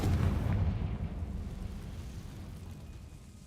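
A Confringo blasting spell goes off in Hogwarts Legacy as a single loud, deep boom, its heavy rumble slowly fading over a few seconds with no talk.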